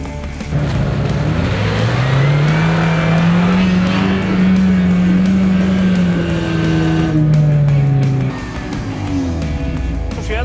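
UAZ off-road vehicle climbing a mountain slope, its engine revving hard and straining in a long sustained whine that rises, holds, then drops. It is loud and close, with rough tire and gravel noise underneath.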